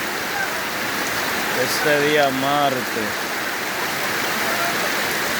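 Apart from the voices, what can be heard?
heavy rain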